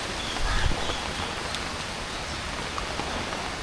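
Steady broadband hiss of rain falling continuously, dense and even, with a brief louder low thump near the start.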